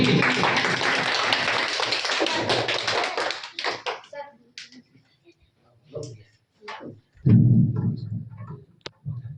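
A classroom audience claps loudly and densely for a student for several seconds, then the applause thins into scattered individual claps with gaps of quiet and a brief burst of noise near the end.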